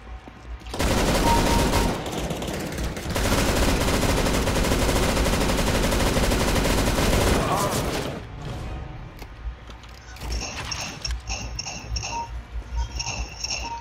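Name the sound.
shotgun shots in CS:GO video game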